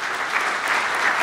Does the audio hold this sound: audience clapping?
yes